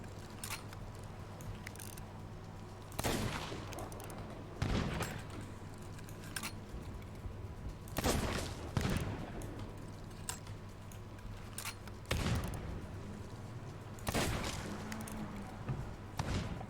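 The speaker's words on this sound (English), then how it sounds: "I do not think little glowy guys I can actually take out with simple bullet fire." Gunshots in the pirate video game Sea of Thieves, a handful of separate heavy booming shots spaced a few seconds apart over quiet ambient hum.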